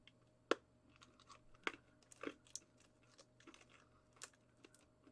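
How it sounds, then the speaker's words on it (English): Soda-flavored Japanese hard candy being crunched and chewed up close, with sharp irregular cracks and bites scattered across several seconds in a quiet room. "I don't want to sit here and eat hard candy so I'm going to try to crunch it"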